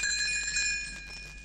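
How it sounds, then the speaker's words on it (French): Small bells tinkling as a page-turn chime on a storybook record, a bright ringing cluster that sustains and slowly fades over about a second and a half. "Elle fera tinter ses petites cloches comme ceci."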